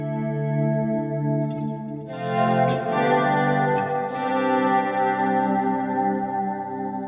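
Electric guitar chords swell in through chorus and reverb with the two pickups set out of phase, giving a thin, shimmering tone; sustained, washy chords ring steadily throughout, close and clear, with no talking.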